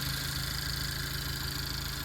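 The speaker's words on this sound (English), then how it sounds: "very tidy engine bay, very well looked after, and a very quiet car as well" A Renault Megane Sport GT engine idles quietly and steadily, a smooth low hum with faint mechanical vibration that holds even throughout, with no voices over it.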